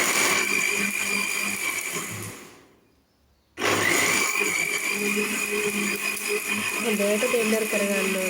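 A kitchen blender whirs loudly while blending pomegranate juice, a steady close motor whine that dips and stops briefly, then restarts at full strength and runs on continuously.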